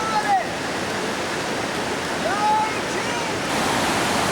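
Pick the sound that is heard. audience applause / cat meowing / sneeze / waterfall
waterfall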